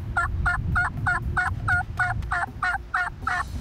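Wild turkeys gobble outdoors in a quick run of about eleven rattling calls at an even, rapid rhythm, fairly close and loud, over a low rumble of background noise.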